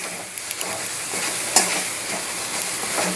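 Chilli powder and spices sauté for a mutton curry, giving a steady, moderately loud sizzling hiss in the pan, with a few sharp crackles and one brief louder scrape.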